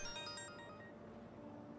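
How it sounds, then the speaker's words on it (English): A phone ringtone plays a bright melodic chime at the start, then fades into a faint tonal hum over quiet background noise. "that was a delightful ringtone"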